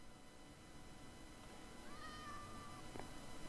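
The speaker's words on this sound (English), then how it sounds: "I can hear a cat out there" A faint, drawn-out cat meow in Minecraft rises and falls over a steady, noisy background hum, fairly distant and quiet.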